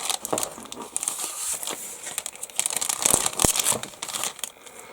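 Plastic packaging for an HK Models 1/48 B-17G Early Production kit being opened, with close, irregular crinkling and crackling bursts and a few sharper tearing rustles.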